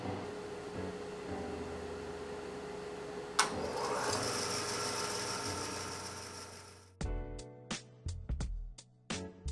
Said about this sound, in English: That turns on the bandsaw